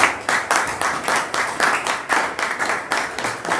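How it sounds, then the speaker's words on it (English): An audience welcomes Francis Atuahene with rhythmic, loud clapping in regular unison beats, about three claps per second, close and without talk. "With a round of applause, Mr."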